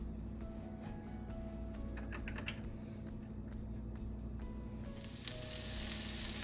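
Onions for a chicken bacon shepherd's pie fry in a pan with a soft, steady, faint sizzle that grows a little louder and brighter near the end, with no talking.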